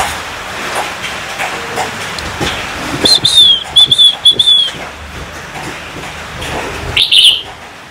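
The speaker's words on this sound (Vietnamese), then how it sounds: "nuôi một chú chim chào mao, chơi chú chim để hót vui nhà vui cửa các bác ạ" A red-whiskered bulbul kept as a house pet sings bright whistled phrases in a short burst, then gives one more brief call, heard fairly close over a faint ambient background.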